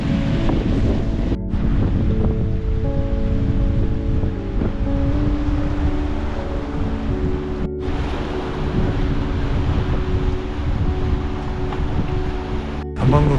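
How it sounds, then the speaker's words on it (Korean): Sea waves and strong wind heard from a seaside walkway over the water at Hanagae Beach on Muuido, a continuous loud roar of surf with heavy wind buffeting the microphone. "파도는 바로 아래서 숨쉬고 바람은 내 어깨 위에 앉습니다"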